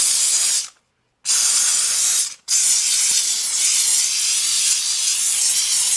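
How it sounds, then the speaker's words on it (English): A steam cleaner shoots out loud, steady hissing steam in long bursts, with two short cutoffs near the start before a continuous blast, close and alone. "That we're not going to put a whole hour of steam cleaning on here."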